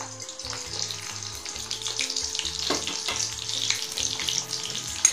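Pointed gourd frying in hot mustard oil over a medium flame: a steady, close sizzle with light stirring, accompanied by soft background music.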